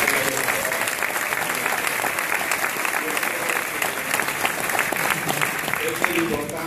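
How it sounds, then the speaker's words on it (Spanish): Audience applause at a Fuxion testimonial event, a sustained, dense clapping from a sizeable crowd that stays loud and steady throughout, with voices mixed in. "yo creo que esos aplausos son ya para que termine"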